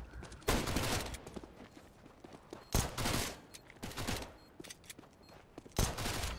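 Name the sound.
gunshots in the video game CS:GO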